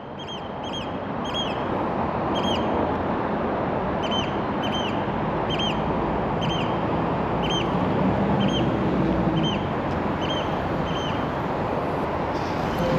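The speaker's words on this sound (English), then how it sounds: "Unique sounding bird, isn't it?" A bird repeating short, high, piping calls in a regular rhythm over loud, steady wind or traffic rumble at a lorry yard, the calls fairly distant and clear above the noise.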